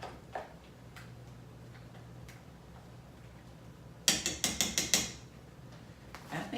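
A spoon stirs through a Frito pie in a bowl, giving a quick burst of about half a dozen close, crisp scraping clicks midway, with only faint scattered ticks before and after and no talking.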